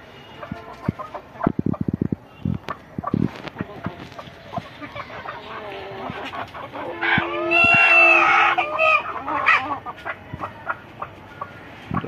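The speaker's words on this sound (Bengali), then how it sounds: "আমার সব মুরগিরা একসাথে চাল খাচ্ছে। চাল খেতেছে।" Farm chickens and roosters feeding on rice together, with scattered close clucks and pecking taps building to a loud crow from a large rooster, plus other birds calling around them.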